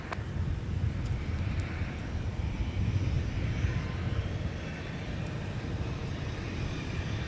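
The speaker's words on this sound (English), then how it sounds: "We've got a deuce of American Airlines departures headed to runway 17 with the 737-800 on taxiway Whiskey" An American Airlines Boeing 737-800 taxis at Minneapolis–St. Paul airport toward runway 17, a steady low engine rumble and whine held at a constant, fairly close level with no voices.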